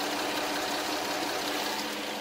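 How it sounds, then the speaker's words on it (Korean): Hyundai Aslan with a GDI direct-injection engine idling, heard from close by: a steady, even mechanical whir with fine ticking, smooth and without surges. "지금 엔진 소음 들려드리면은"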